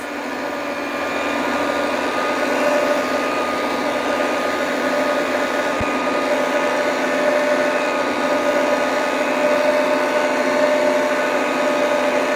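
A Popeil pasta machine runs steadily while extruding fresh pasta, a loud continuous motor whir and hum with a constant tone that holds unbroken for the whole stretch, with no speech.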